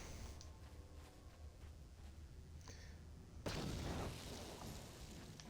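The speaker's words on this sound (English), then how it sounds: "we're going to throw some grenades here." Grenade explosions in Star Wars: Knights of the Old Republic, with faint muffled thuds early, then one sharp loud blast with a broad noisy burst that lingers and decays.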